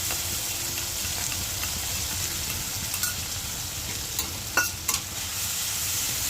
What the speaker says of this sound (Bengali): টমেটো পেঁয়াজটাকে কিন্তু আমি ভালো করে একটু নাড়াচাড়া করে নিচ্ছি